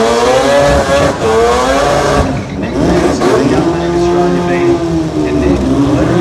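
Mazda RX-7 rotary race car and a VW Beetle running hard at a racing event, loud rising and falling engine notes with a brief lift and squeal midway, a commentator talking over them.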